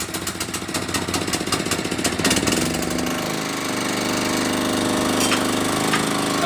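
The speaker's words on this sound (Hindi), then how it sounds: "और ये जनरेटर स्टार्ट हो गया" A Honda E650k or E1000k portable generator engine runs just after starting, a loud close rattling drone that settles into a steady even hum after a few seconds, with no talk.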